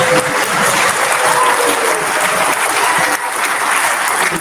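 Sustained applause from a convention panel audience at a Star Trek: The Next Generation session of a pop culture expo, a dense, steady wash of many hands clapping without pause.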